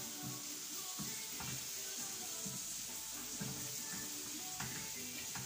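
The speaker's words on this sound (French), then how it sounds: "je retourne mes crevettes et cette sauce là" Shrimp in sauce sizzle steadily in a pan alongside salted fish, a soft continuous frying hiss with low periodic stirring thumps and no one speaking.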